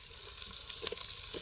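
Mutton frying in oil in a pan over a village cooking fire, a steady dense sizzle with small crackles and stirring noises throughout, close and moderately loud.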